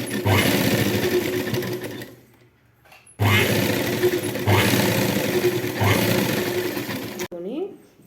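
A sewing machine stitches a blouse piece in loud close bursts of whirring motor and needle chatter, pausing briefly between runs, with a voice speaking underneath.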